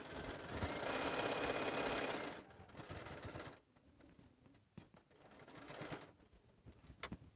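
Sewing machine stitching a lined stocking with pocket dividers, running loud and steady for about two seconds, then dropping to softer, intermittent bursts of stitching with small clicks and handling noises.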